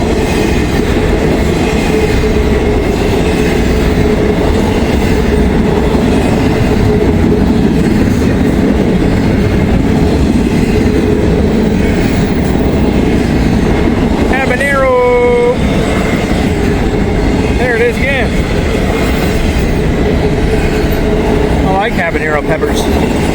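A CPKC locomotive hauls an intermodal freight train past at close range, a loud continuous rumble with rhythmic clatter and a few brief wheel squeals.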